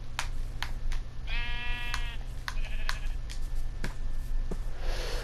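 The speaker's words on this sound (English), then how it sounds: "now they're everywhere. The fucking sheep." A sheep bleating in Minecraft, one wavering nasal bleat standing out over a steady low hum, with sharp clicks scattered around it and a faint second bleat shortly after.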